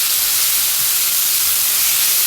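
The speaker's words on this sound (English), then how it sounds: "what I like to do is saute these up for about 5 minutes" Chopped vegetables for a bacon-wrapped meatloaf sautéing in a pan, giving off a loud, even, bright hiss of sizzling that holds steady throughout with no voices.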